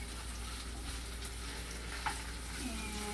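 Fried rice stir-frying in a pan with onion and scrambled egg, a steady close sizzle with occasional stirring scrapes and a faint clink, no talk over it.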